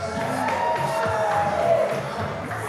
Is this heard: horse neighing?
no